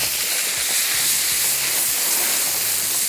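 Pan of apple cider vinegar and plain vinegar with chillies and garlic for a garlic pickle, coming to a boil on the stove; a steady, loud hiss and bubbling roar runs unbroken throughout with no talking.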